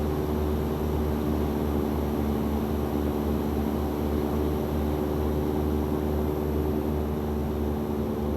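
A propeller plane flies low over Lake Turkana, a steady droning engine hum with a constant tone, loud and close throughout with no voices.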